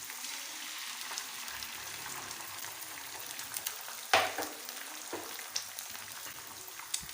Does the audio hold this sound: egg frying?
yes